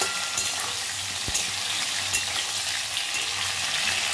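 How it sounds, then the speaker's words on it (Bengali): Pointed gourd (potol) fries in a pan with a dense, steady sizzle up close, broken by a few soft knocks as it is stirred. There is no talk. "আসলে পটলগুলো ভেজে নিই"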